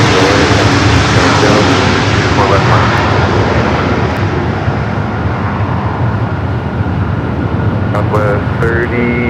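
Loud, steady roar of a passenger airliner's jet engines at Los Angeles International Airport, sustained and close for the whole stretch, with a faint voice briefly audible over it near the end.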